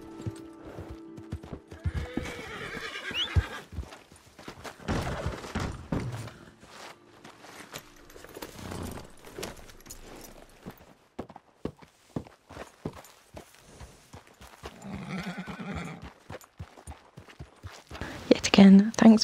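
Horse hooves clip-clop in Red Dead Redemption 2 during a group trail ride, with neighs and whinnies breaking through at intervals, while soft talk and whispering run beneath and the sounds grow louder near the end.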